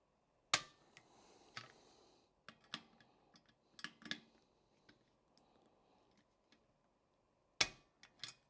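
A torque wrench tightens the action screws of a CZ 457 rifle in a chassis, giving a few sharp, quiet clicks and ratcheting ticks scattered over several seconds in a near-silent room.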